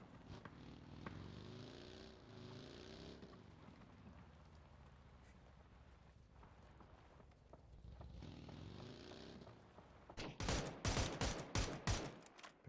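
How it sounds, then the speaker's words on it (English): Rapid gunfire bursts in a Counter-Strike esports match, a dense volley of sharp shots near the end after quieter game ambience, loud and close. "Shots in the direction of C."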